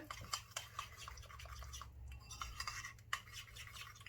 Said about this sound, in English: So you need to give it a good mix.